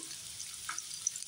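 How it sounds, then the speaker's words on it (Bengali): A spice paste of turmeric and chilli powder fries in a pan with a soft, steady, fairly faint sizzle for a brief moment. "মশলাটা আমি একটু ভালো করে ভেজে নেব"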